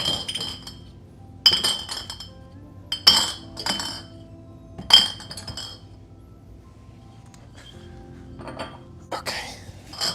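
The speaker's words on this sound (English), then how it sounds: "don't mind the noise of glass clanking against each other" Glass 12-ounce beer bottles clink and clank against each other in bursts of sharp, bright knocks, several loud clusters spaced a second or two apart with quieter rattling between, close by in an indoor kitchen.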